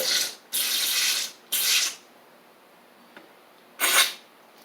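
An aerosol can of carburetor cleaner on a Husqvarna Z4822 zero-turn mower sprays into the carburetor jets in three close hissing bursts, a pause, then a fourth short burst, with no talking.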